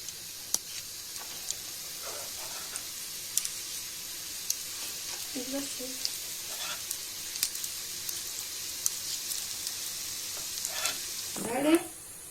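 Lenten fritter dough balls frying in hot oil, a steady soft sizzle with bubbling crackle running throughout, a few faint clinks and a louder scrape near the end, no talking.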